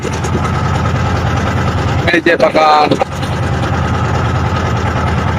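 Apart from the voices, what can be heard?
trawler boat engine running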